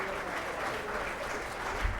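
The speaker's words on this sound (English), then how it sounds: "Give these people a round of applause." Applause from guests at a volunteer recognition dinner, a steady even patter of clapping filling the room throughout the short moment.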